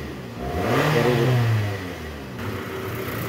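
A Toyota Camry XV40 engine after a tune-up and tensioner replacement revs up once to a loud close whir, then eases back to a steady idle.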